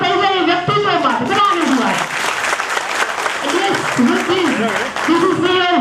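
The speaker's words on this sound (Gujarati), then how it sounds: "તો એકવાર જોરદાર તાળીઓ થઈ જાય વ્યક્તિત્વ માટે." An audience at a Jamnagar Factory Owners Association talk by a diamond businessman breaks into loud, dense applause that fills the whole stretch, with voices and some chuckles mixed in.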